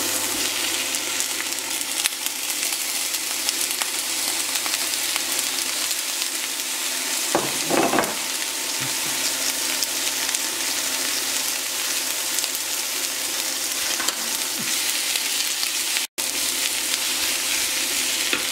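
Chopped onions and bell peppers fry in hot oil in a pan, giving a steady, even sizzle with a brief stirring scrape midway, with no talking.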